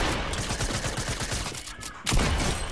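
Rapid gunfire in a shooting video game, dense overlapping bursts of shots that run almost continuously, then a short lull and a loud renewed volley, all near and loud with no talk.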